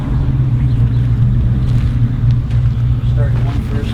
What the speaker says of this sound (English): First diesel locomotive or diesel engine that Caterpillar ever made